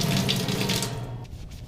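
Running water splashes steadily at close range while a Mercedes R129 door panel is wiped with a magic eraser, a continuous wet wash that thins out toward the end.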